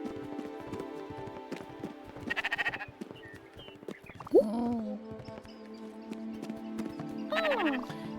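Sheep in the Spiritfarer video game bleating a few times over a light clip-clop of hooves as they walk along, with a soft in-game music bed underneath and no voices.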